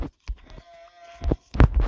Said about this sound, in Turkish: Şurada da koyun var.